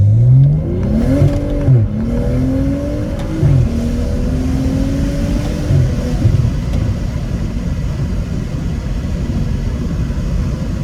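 A BMW F30 with a Stage 2 tune, about 100,000 miles on it and an aftermarket exhaust, accelerates through rising revs with a droning note, heard from inside the cabin with the windows open.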